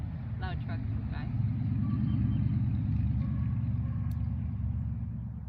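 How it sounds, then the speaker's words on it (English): Loud truck passing by outdoors, a heavy low rumble that swells and fades slowly, somewhat distant and steady, with faint chirps above it. "We'll let that loud truck go by."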